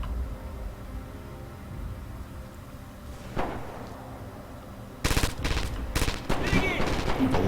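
Bursts of gunfire in a tank-battle video game set among apartment housing blocks, starting with a lone shot and breaking into dense, loud rapid fire over the final seconds, with steady background engine rumble.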